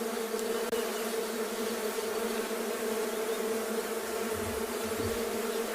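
A swarm of digging bees on safari buzzing continuously, a dense steady hum with layered drone tones, close and unbroken, with no voices.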